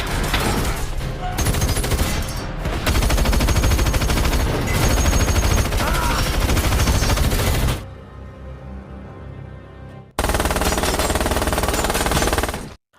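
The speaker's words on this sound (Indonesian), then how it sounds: "tapi mereka ditembaki oleh Hill dan Dave" Sustained automatic gunfire in an action film, loud dense bursts that drop to a quieter lull before one more heavy burst cuts off.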